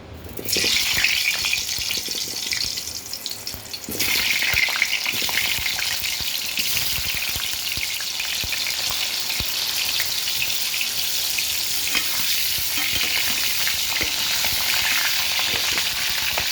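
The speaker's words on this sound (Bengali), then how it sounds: "আলুটা ভেজে নিই আগে।" Potatoes frying in a pan give a loud, steady sizzle and crackle that swells after a few seconds and keeps up with no talking.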